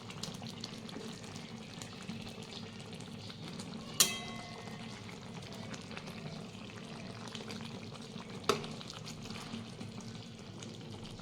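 Eggplant frying in a pan for a spiced eggplant curry, turned over slowly; a soft, steady low sizzle runs throughout, broken by two sharp utensil clicks against the pan.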